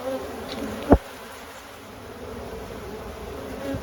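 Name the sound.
honeybees buzzing around an open hive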